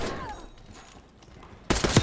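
Tanto .22 SMG fire in a video game match on Rebirth Island, a short loud burst of rapid shots arriving near the end after a quieter stretch.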